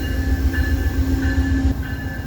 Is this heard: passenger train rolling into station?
yes